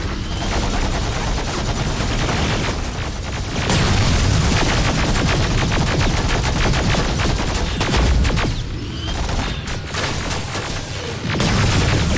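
Dense, relentless gunfire in Terminator: Resistance, rapid automatic bursts and heavy booms layered together at close range, nearly continuous with brief lulls.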